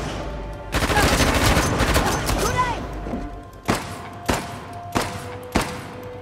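Gunfire in Uncharted: The Lost Legacy: a dense burst of rapid automatic shots, then four separate loud, sharp single shots at even gaps, with faint game sounds underneath.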